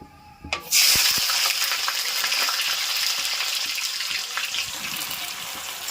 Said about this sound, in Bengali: ভালো করে ভেজে নেব পেঁয়াজটা